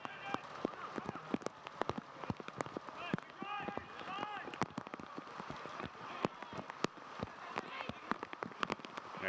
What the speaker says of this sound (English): but today they're getting their share of rain